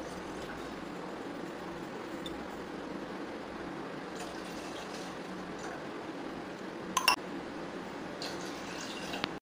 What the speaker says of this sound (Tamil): ரெண்டு டம்ளர் பால் ஊத்திப்போம்